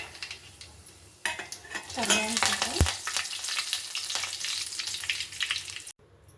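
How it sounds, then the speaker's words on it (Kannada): Mustard seeds sputter in hot oil as tempering for a chutney, with a loud burst of sizzling and crackling, metal utensil scrapes and clinks against the pan, close up, cutting off abruptly at the end. "ಚಟ್ನಿಗೆ ಒಗ್ಗರಣೆ ಹಾಕ್ಕೊಳ್ಳೋಣ ಬನ್ನಿ ನೋಡಿ ಎಣ್ಣೆ ಕಾದಿದೆ"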